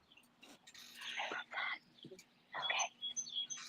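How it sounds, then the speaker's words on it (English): Faint outdoor birdsong, scattered chirps and tweets coming in short bursts at a distance, with a quiet background hum. "It's so peaceful where Millie is with the birds."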